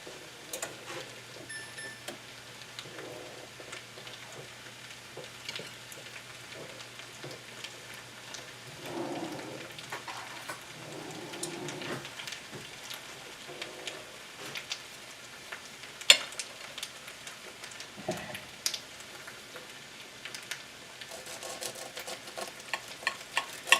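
A spaghetti frittata crisping in a pan sizzles and crackles steadily for about twenty-four seconds, quiet and close, with a continuous rain-like hiss, scattered pops and occasional louder scraping or stirring noises, and no talking.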